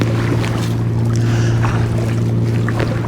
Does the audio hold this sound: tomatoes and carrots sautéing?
no